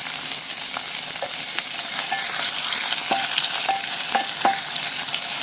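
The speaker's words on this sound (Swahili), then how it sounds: "As our kitunguu is cooking, you add in your hoho." Onions and green peppers fry in a pan with a loud, continuous sizzle, broken by scattered light clinks and stirring sounds close by.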